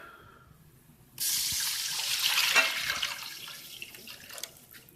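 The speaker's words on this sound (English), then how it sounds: "So now I just add the water." Water is added to a pot of onions cooking in oil, a sudden loud sizzling gush that starts abruptly and then hisses and bubbles steadily before tapering off, no talking.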